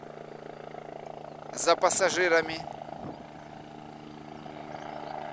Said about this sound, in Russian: Еще один вертолет идет на посадку